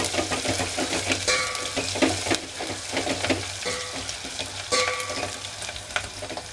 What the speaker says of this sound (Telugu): ఇంతవరకు ఉల్లిపాయ వేగి అంతవరకు వేయించుకోవాలి